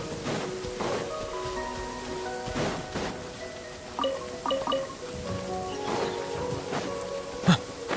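Heavy rain pours steadily in Genshin Impact, a dense continuous hiss of falling water with soft musical tones and a few faint clicks over it, and no talking.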